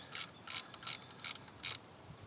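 A ratchet wrench works on the engine of a 2004 Toyota Camry, giving five short, sharp bursts of clicking in a steady rhythm, close and clear with no talking.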